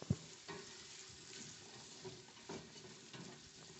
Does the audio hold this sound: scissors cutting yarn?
no